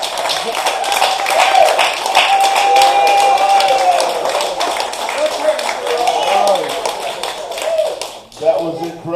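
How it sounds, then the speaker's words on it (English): A crowd applauds after a performance at a youth justice event, with dense sustained clapping filling the room, cheers and whoops riding over it, then tapering off as a voice begins speaking near the end. "Can we give them another round of applause?"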